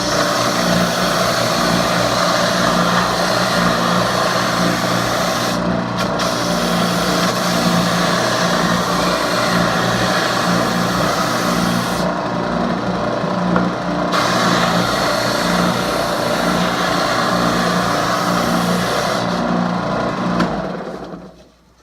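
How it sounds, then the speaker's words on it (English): A Ridgid oscillating spindle sander hums loud and steady as it rounds over a wooden corner, a continuous close motor whine with brief dips, then winds down at the end. "I'm going to now show you how quick I can actually round this corner over with this oscillating"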